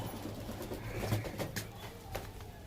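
Soft low cooing comes from pigeons in a loft, paired Suleman Kagzi birds, with a few brief clicks and light rustling, close by.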